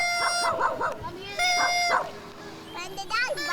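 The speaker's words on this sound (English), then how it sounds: "When the dog's barking" A dog barks in short repeated bursts at a 4th of July outing, close and fairly loud, with people talking around it and a voice that seems to join in with barking noises.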